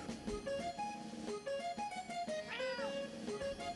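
A cat meows a series of short, close, quiet calls in the morning as a greeting, with one longer, drawn-out meow near the end.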